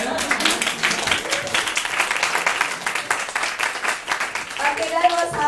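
Audience clapping in a small group, a dense patter of hands over the whole stretch with voices mixed in, and a few louder shouts near the end.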